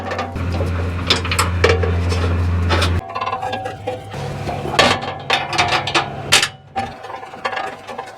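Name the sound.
bolts being started on a Land Cruiser skid plate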